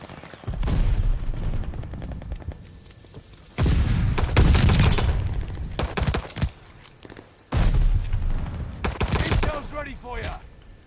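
Gunfire in the shooter Call of Duty Vanguard: loud, dense bursts of rapid shots in three long volleys separated by quieter gaps, with a game announcer's voice heard between them.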